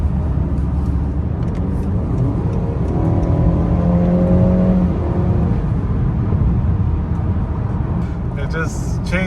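A 2022 Honda Accord 2.0T accelerates hard from inside the cabin, its engine rising and dropping in pitch as it shifts through the gears, with a steady road roar underneath throughout.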